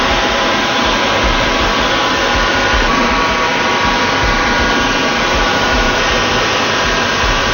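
Cutting wheel grinding into custom crystal, a steady, loud, unbroken whir and hiss that holds one even pitch throughout, close up with no talk.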